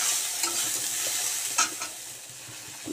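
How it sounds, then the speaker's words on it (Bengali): Moringa drumsticks fry in a pan, giving a steady close sizzle with a few soft stirring scrapes and clicks throughout. "আমি ডাঁটাটাকে আগে ভেজে নিচ্ছি ভালো করে।"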